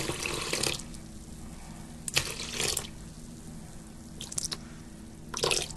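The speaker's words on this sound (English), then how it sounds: "I'm going to add about a cup of warm water." Warm water pours and splashes in several short bursts into sourdough bread dough, separated by quiet pauses, close by and moderately loud.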